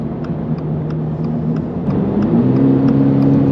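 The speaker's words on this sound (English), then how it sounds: "the car pulls nicely, gets right up to speed" A 2024 Toyota GR86's engine hums steadily nearby in regular automatic mode, then its pitch steps upward as the car accelerates, smooth and continuous without any voices.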